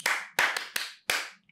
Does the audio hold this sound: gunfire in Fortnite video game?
no